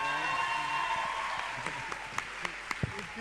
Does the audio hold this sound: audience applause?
yes